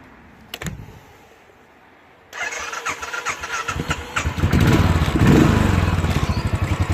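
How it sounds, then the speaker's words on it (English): Cold Royal Enfield Classic 500 motorcycle engine started with the fast idler switch: a sharp click, a pause, then the starter catches and the engine rises into a loud, steady, rapid thumping idle close by. "So I've just used the fast idler switch to start the engine."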